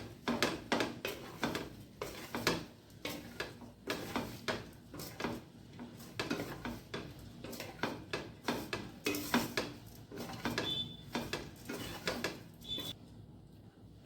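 Dhokla ingredients are stirred together in a pot with a steady run of quiet scraping and tapping strokes, repeated rhythmically and close, with no talking.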